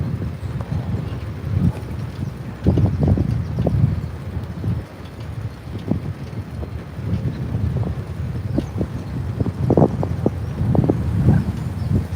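Gusty sea wind buffets the microphone in low rumbling bursts, rising and falling continuously with no voices.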